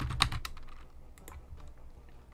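A few quick keystrokes clatter on a computer keyboard, close and crisp, followed by sparser soft taps against a quiet room.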